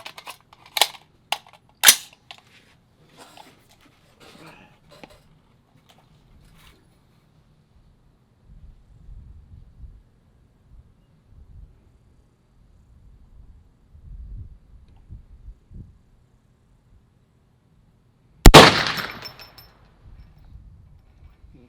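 A .450 Bushmaster rifle fires a single loud, sharp shot near the end, after a stretch of quiet handling clicks and faint low rustling noise.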